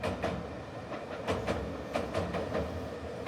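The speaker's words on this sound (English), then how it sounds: "the pink train arrived" The pink Medetai train rolls into a station on the Kada Line in Wakayama, its wheels clicking over rail joints in a steady rhythmic clatter over a constant mid-level rumble, with no voices.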